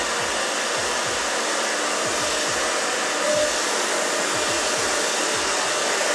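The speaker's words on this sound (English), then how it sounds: "I take and I round brush, against it. So see, it's coming up, and I'm just brushing that down" Hair dryer blowing steadily and loudly at close range while a round brush works through a woman's short hair, a continuous whooshing roar with faint brushing strokes beneath it and no talking.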